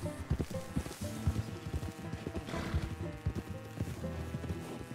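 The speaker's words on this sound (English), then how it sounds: "It's a donkey, it's not a zebra." A donkey in Red Dead Redemption 2 clip-clops along in a steady stream of close, loud hoofbeats, with a braying call rising over the footsteps and no talk heard.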